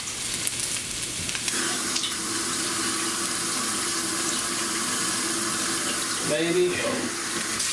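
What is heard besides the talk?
rinsing something under running tap water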